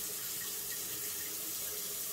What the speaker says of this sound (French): Oh, le robinet coule.